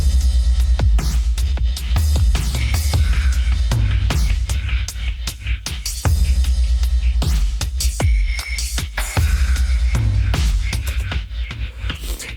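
Punchy electronic techno drum kit hits with deep booming kicks and sharp snares in a steady beat, loud and up close, with short pauses between patterns.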